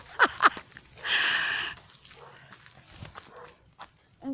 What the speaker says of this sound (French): c'est un chien